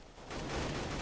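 Burst of rapid gunfire in the Counter-Strike: GO video game, a dense rattling volley that swells after a quiet start and holds loud to the end, with no talk.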